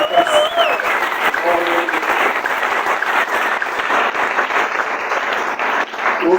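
A church congregation claps steadily throughout a sermon, a loud continuous wash of applause with voices faintly audible within it.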